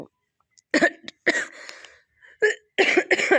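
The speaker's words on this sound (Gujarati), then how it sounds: "જબરજસ્ત ઉધરસ થઈ ગઈ છે" Several sharp coughs in separate bursts, close and fairly loud, with short pauses between them and a longer run of coughing at the end.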